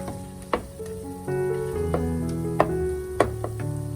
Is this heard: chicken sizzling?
yes